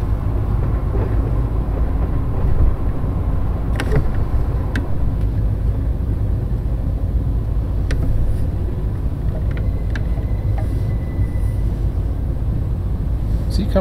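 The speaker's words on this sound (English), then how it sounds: "And there's a train." A train passing at some distance, a broad low rumble holding steady throughout with scattered faint clanks and squeals on top, fairly loud and continuous.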